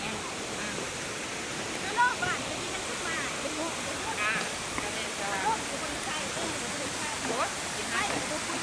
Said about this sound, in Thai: น้ำตกตาดบรรยากาศเย็นๆวิวงามๆ